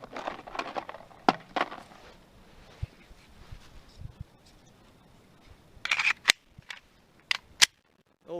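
A Glock 44 .22 pistol fires Federal target-grade rimfire ammunition at a target about 40 yards away, sending out sharp, scattered single shots with irregular gaps between them and a few shots close together.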